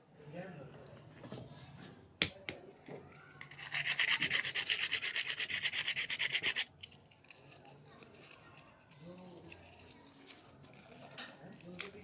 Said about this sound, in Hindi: थोड़ा सा हम रेगमाल मार लेंगे।